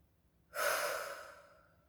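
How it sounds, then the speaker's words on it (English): A single deep cleansing breath, heard close and soft: a sudden rush of air that fades gently over about a second and a half, in an otherwise quiet room. "Cleansing my lungs with each detoxifying breath."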